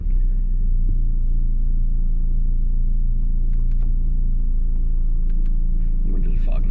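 Inside a turbocharged Audi A4 B5 while driving, a steady low engine rumble drones continuously, loud and close, with faint higher noises near the end.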